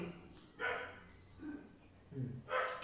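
A dog barks a few times at a distance, short sharp yelps spaced apart against a quiet background.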